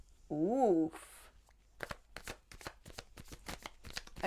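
Tarot cards are shuffled close up after a brief vocal sound, the deck giving a run of quick, crisp riffling flutters and slaps in an uneven rhythm, fairly soft.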